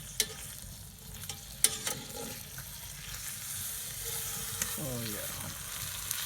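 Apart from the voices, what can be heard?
brisket searing and sizzling in a Dutch oven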